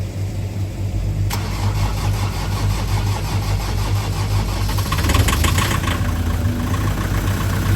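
A diesel engine cranks in winter cold with thick oil, a loud, rapid, rhythmic churning that strains throughout and grows rougher near the end, close up.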